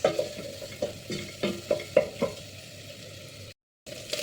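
Chicken gizzard adobo stirred in a pan: a series of close scraping and sizzling stirs, irregular and fairly quiet, fading near the end.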